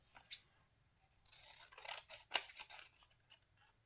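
Scissors cut paper for a handmade journal, one cut running crooked: a few quiet, close snips and soft paper rustles in an otherwise hushed room.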